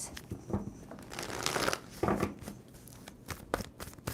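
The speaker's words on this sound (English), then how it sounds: "2 more shuffles." A deck of tarot cards is shuffled by hand, giving quick, crisp riffling and slapping bursts that are fairly close but soft.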